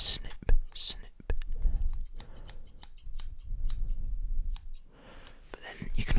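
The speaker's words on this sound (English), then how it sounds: "And I also have some scissors, which go snip, snip, snip, snip, snip, snip, snip, snip." Scissors snip in a quiet ASMR setting, close to the mic. The crisp metallic cuts come in an uneven run of about a dozen clicks, with soft whispering and light rustling between them.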